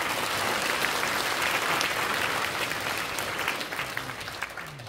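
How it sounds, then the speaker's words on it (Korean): An audience at a church thanksgiving service for an installation claps warmly for introduced guests, a dense, even applause that holds steady and then slowly thins and fades toward the end. "잠시 일어나서 인사해 주시면 모두가 박수로 허락해 주시기 바랍니다"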